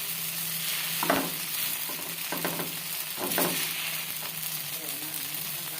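Rice vermicelli noodles stir-fried in a pan, added dry without soaking, hiss with a steady sizzle while a few clatters of the spatula stir them, alone and close.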